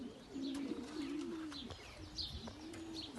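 Racing pigeons coo softly and repeatedly near the loft as they arrive home, with occasional chirps from other birds and faint background rustle; no talk.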